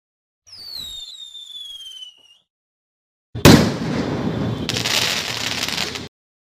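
Diwali fireworks in India: a rocket whistles upward, then after a short pause loud, dense crackling bursts and firecracker pops rattle on for several seconds.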